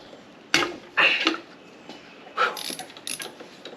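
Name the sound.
flex ratchet turning a bolt on a Jeep 4.0 engine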